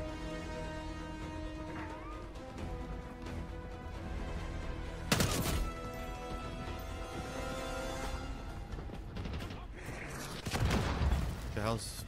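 Gunfire in Call of Duty Black Ops 6 cracks out in a couple of loud bursts and impacts over a constant game soundscape with music, while a player talks throughout.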